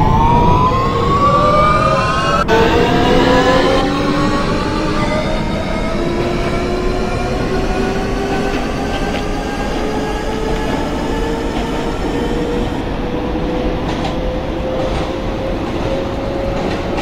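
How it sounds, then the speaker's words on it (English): Simulated R160 subway train on the F local line in the OpenBVE train simulator game, running steadily with a rising motor whine and rumbling wheels, loud and close throughout with no talk. "This is a Manhattan-bound F local train."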